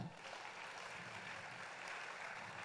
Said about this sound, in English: I think we should clap for her